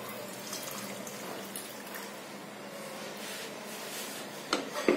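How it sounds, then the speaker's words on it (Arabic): Water pours into a pot of Moroccan tripe dish, a steady close rush of liquid running without break, with a few knocks and clatters toward the end and no voices. "ونزيدو الماء حتى نغطيوها"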